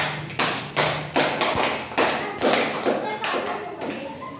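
A class claps for a student in a few bursts of loud, close, uneven hand claps, each burst slapping sharply and then fading quickly.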